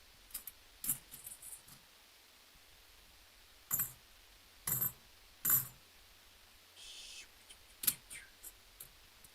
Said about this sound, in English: It's just a bunch of clickety clackety clads.